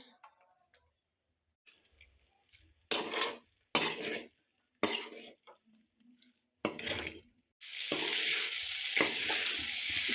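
Gobi Manchurian stir-fried in a pan just after spring onion greens go in: several short clattering bursts of tossing and scraping, then a loud, steady, close sizzle filling the final few seconds.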